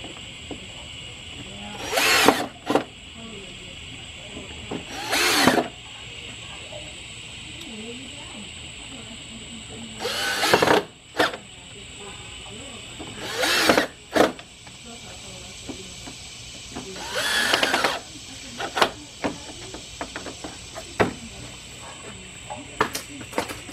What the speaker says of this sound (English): Finally, put our screws in there.